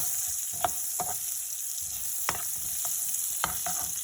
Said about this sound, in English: you want to throw in your roughly chopped onion, just like that, and mix it around